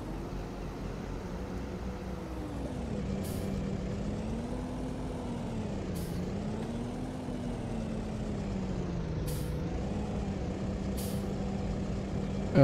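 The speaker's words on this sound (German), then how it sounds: "So, mit der Gruppe runterschalten" A truck in Farming Simulator 19 downshifts through its gears, its engine droning as the pitch rises and falls, while short hissing bursts of air brake recur several times over a steady background, with no talk over it.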